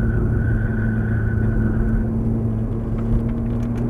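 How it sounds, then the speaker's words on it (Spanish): Exotic sports car engine held at a steady, loud roar with deep rumble, driven hard on a closed course in Cancun, with no clear rise in pitch and no talk over it. "empiezo a acelerar, empiezo a acelerar."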